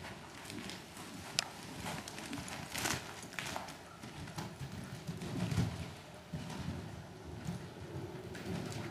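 Horse hooves clip-clopping on the ground at a show-jumping riding clinic, a steady rhythm of soft thuds at moderate distance under wind and outdoor ambience.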